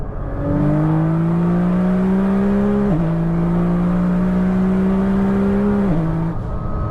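A 2000hp Nissan GTR accelerates hard on a dual carriageway, a loud, steady engine drone rising in pitch through two gear changes, with no voices.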